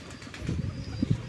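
Doves cooing among a flock of pigeons, with soft low coos and wing flutters close by, several short calls overlapping in the second half.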